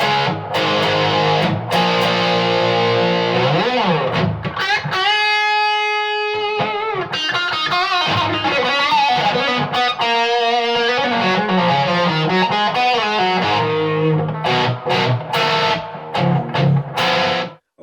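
An electric guitar played through a Suhr Riot distortion pedal set to maximum distortion on a clean amp channel, with the vintage voicing switch engaged and the tone rolled low. Heavily saturated chords and sustained notes ring out with brief pauses.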